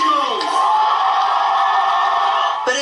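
A sellout crowd at a bushfire relief concert in Sydney cheers and whoops, a loud, dense roar of many voices that holds steady for the whole stretch.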